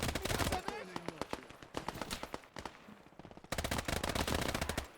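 Soviet PPSh drum-magazine submachine gun firing in the Gates of Hell WWII game, with rapid automatic bursts and crackling gunfire that pause briefly and then resume, loud and close.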